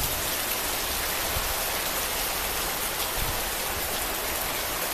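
A steady, loud downpour in strong wind, rain hissing and drumming on surfaces without letup.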